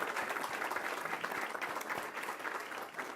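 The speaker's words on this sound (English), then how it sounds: "A round of applause for Dan, please." An audience at an anniversary gala applauds, steady dense clapping filling the room from start to finish.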